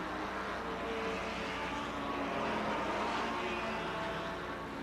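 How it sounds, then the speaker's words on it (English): 1950s Formula racing cars, including Lancia Ferraris, Porsches and a Formula 2 Cooper, roar at the 1957 German Grand Prix at the Nürburgring, a dense distant engine wash with no voices. "Schell, Evans, Gregory, Brooks, Herman, and Roy Salvadori's Formula 2 Cooper following behind"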